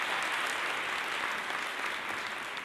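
Audience at a chamber of commerce awards dinner applauding, a continuous, even roar of many hands heard at moderate distance, fairly soft and sustained throughout.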